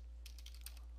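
Keys tapped on a computer keyboard while entering Windows 10 command-line commands, a quick run of about six light clicks over a second, close and clear above a steady low hum.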